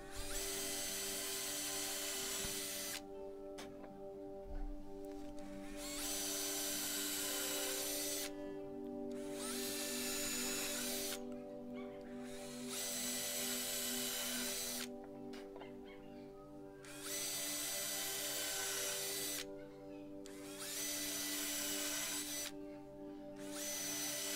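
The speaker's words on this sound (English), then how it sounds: "I started off by drilling some pilot holes" A power drill whines in repeated bursts while drilling pilot holes in scrap wood, about six runs of several seconds each separated by short pauses, close and loud.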